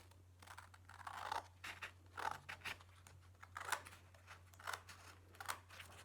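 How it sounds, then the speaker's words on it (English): Scissors snip down the fold of a sheet of A4 paper for a paper snowflake craft, a series of close, crisp cutting bursts at an uneven pace over a low steady hum, with no talking. "we're going to cut down the crease we've just made so that we've got half the A4 paper"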